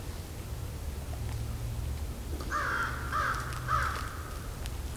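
American crows, flocking apart from other birds during a winter bird count, give three evenly spaced caws at moderate distance over a steady outdoor hiss.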